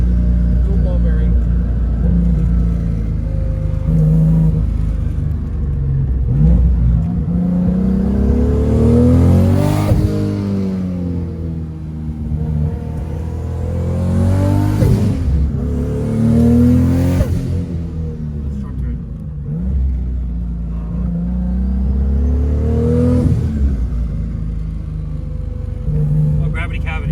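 Big-turbo, cammed Toyota Supra 2JZGTE running on E85 accelerates hard, its engine note rising and falling through repeated revving pulls, loud and close throughout, with people talking over it.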